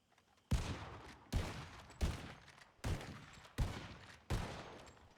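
Video game gunfire during Wild RP shooting practice: six evenly spaced single shots, each a sharp crack with a short decaying tail, fairly close and alone without talk.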